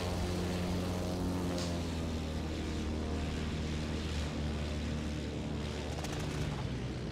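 A propeller plane in Battlefield 1943 drones steadily nearby, its engine hum continuous and even throughout with no speech over it.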